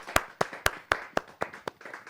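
At a Hindi poetry gathering, hands clap in an even, steady beat of about four sharp claps per second, crisp and close, with faint murmuring behind.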